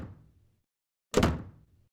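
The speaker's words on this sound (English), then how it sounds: "it's actually the sound of a door in a theatre being slammed" A theatre door slammed shut with a single heavy, distorted thump that decays over about half a second, preceded by the fading tail of an earlier low thud.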